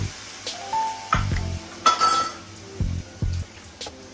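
Water splashes into sizzling spiced masala for a rohu fish curry, with clanks of a metal pan and a stirring spoon coming in short bursts over a steady frying hiss.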